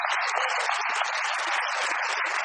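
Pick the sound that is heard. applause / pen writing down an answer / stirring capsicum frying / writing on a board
applause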